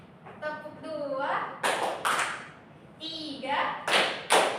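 Children clap hands together in sharp, sudden bursts following a woman teacher's spoken count in a classroom, the group claps landing between her words in a loose rhythm.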